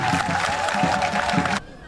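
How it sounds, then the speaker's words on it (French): A crowd at a village chief's investiture ceremony in Assaoufoué claps for the UNADA president, a dense, steady wash of applause with scattered cheers that ends abruptly after about a second and a half. "je voudrais qu'on fasse un applaudissement au président de l'UNADA"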